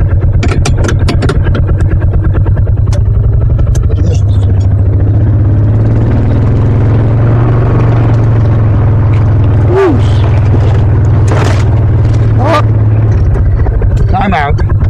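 A four-wheel-drive vehicle's engine labours loudly in low gear on a blocked trail, a constant close rumble with people talking over it.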